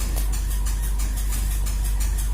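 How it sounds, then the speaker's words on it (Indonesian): A home washing machine runs in the middle of a wash cycle, a steady loud motor hum with a faint repeating churn, continuous and close with no voices. "jadi itu suara mesin cuci"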